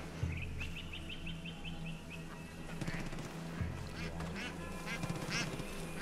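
A duck quacks in Far Cry New Dawn with a quick run of about ten short nasal calls near the start, then fainter scattered calls over a low background rumble.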